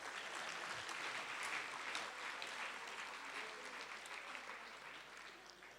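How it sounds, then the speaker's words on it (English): An audience at the Buffalo City Metropolitan Municipality State of the City Address gives the Executive Mayor a round of applause, a sustained, even wash of clapping that fades slightly at the close, heard from a distance. "a round of applause."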